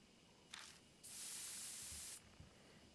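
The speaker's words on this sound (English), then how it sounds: "I take careful aim and spray the drug." Sprayer releasing a sleeping drug in the video game Deathmark: a short hiss, then a loud sustained spray lasting about a second, ending abruptly, against a quiet background.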